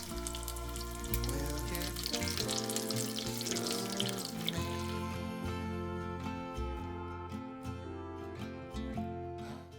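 Oil sizzles and crackles steadily as curry bread deep-fries, under background music playing throughout.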